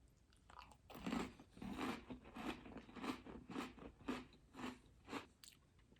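Gluten-free Oreo cookie bitten and chewed close to the mic, a series of about ten crisp, crunchy chews in a steady rhythm, faint and alone without talk.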